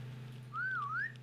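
A single rising and falling whistled tune, used to lure zombies in the game SurrounDead, sounds clearly over a low steady hum.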